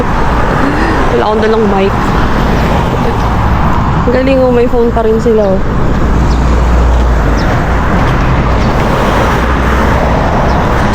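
Road traffic on a street in Sokcho makes a loud, continuous wash of rumbling vehicle noise, while a person talks close by over it in short bursts.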